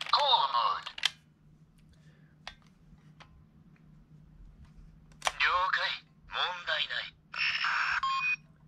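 A Morphin' Blaster toy cell phone from Tokumei Sentai Go-Busters plays its caller mode sounds: a bright electronic burst, a few short clicks, then three loud chirping electronic tone bursts close to the microphone.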